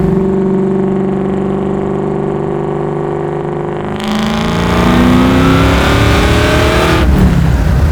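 Supercharged Chevy Camaro pro-touring build revved at about half throttle, a loud close idle that swells into a rising, whining rev before dropping back off.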